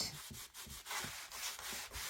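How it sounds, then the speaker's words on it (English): Rhythmic back-and-forth rubbing of sandpaper on a wooden sign, a quiet, steady scratching repeated about eight times. "Then I gave it a light sanding."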